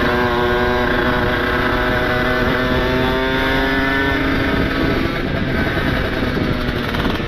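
Steady, loud, close-up engine note from a ported Kawasaki Ninja motorcycle, a buzzing two-stroke drone held at high revs with a slight dip and rise, no voices.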